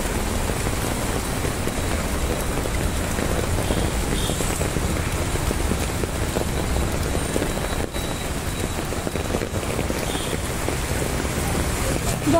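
Heavy monsoon rain pours down in Viman Nagar, Pune: a dense, steady hiss of drops drumming on surfaces, loud and unbroken for the whole stretch.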